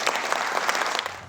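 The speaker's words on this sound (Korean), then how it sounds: "잠시 정적이 흐르다 이내 박수가 터져나옵니다." An audience at Sony's electric car announcement bursts into applause: a short, dense wash of many hands clapping, moderately loud and steady throughout.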